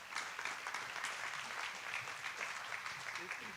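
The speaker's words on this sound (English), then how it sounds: "a round of applause to you all" Steady applause from a crowd, continuous clapping that holds at an even level throughout, moderately distant.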